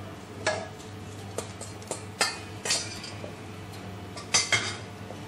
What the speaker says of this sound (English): Transfer the baby corn and mushrooms to the pan.